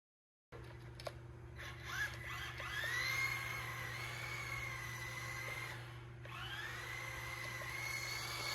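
A Kyosho Mini-Z AWD Nissan Skyline RC car drives at full throttle on carpet with a thin, steady electric whine. Rising and falling motor pitch sweeps over a constant low hum, faint and without talking.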